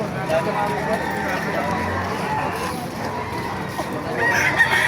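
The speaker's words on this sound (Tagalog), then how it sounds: "Papakita ko sa inyo mga manok dito sa Baliwag" Chickens cluck and a rooster crows nearby while people talk over the birds throughout, at a poultry market in Baliuag, Philippines.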